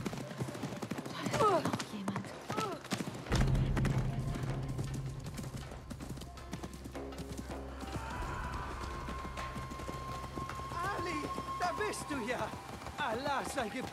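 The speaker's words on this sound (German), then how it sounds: "reit doch mal schneller, wir haben Pferde." Horse hooves galloping in Assassin's Creed Mirage, a steady clip-clop rhythm running under game music and ambience while people talk in German over it.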